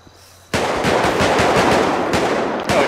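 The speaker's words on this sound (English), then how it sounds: "Gunshots are going across the city" Sudden burst of rapid automatic gunfire across a city in GTA 5, loud and continuous, firing in dense bursts after a brief quiet moment.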